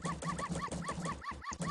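The Clock Town dog in Majora's Mask gives a rapid, evenly spaced string of high yelping barks and whimpers, about nine in under two seconds, at a quiet level.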